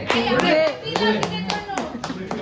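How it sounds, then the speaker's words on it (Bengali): Audience at a vloggers meet-up and anniversary celebration clapping in a quick, uneven burst of applause close by, with voices mixed into the clapping. "প্লিজ হাততালি।"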